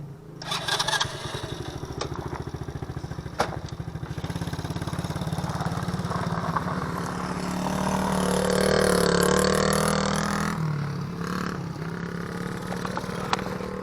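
A small Tao Tao four-wheeler ATV engine runs close by with a steady, buzzy idle. It revs up in a smooth swell near the middle, then settles back, with a few sharp clicks and knocks along the way.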